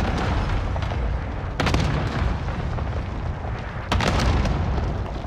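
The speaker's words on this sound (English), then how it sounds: "Cluster strike away." Cluster strike explosions in a Call of Duty battle royale match: a rumbling bed of distant blasts with two sharp, loud bursts of impacts roughly two seconds apart.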